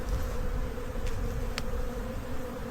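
Honey bees swarm and buzz around an open hive in a continuous, dense drone, close and steady, with a couple of brief sharper sounds cutting through.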